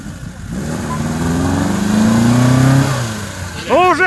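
Lada Niva off-road car engine revving during an off-road outing, a mid-pitched engine note rising and holding steady over a few seconds, fairly close, with brief talk near the end.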